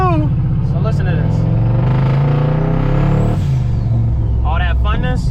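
A 2022 KTM 300 two-stroke dirt bike with a full FMF exhaust revs loudly and close, its pitch climbing then dropping, and a voice briefly speaks near the end.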